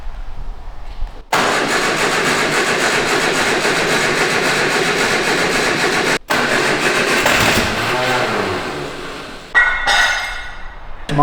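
MGB TD classic car left in storage for months cranks and starts abruptly, then runs with a loud, rough mid-pitched engine roar, briefly stumbles, and settles into an uneven idle with a revving surge near the end.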